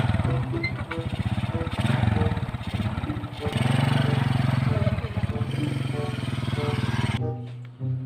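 Motorcycles pass nearby on a local road, their engines putting out a steady, close, throbbing drone that rises and falls across several seconds before cutting off near the end, with people talking over the noise.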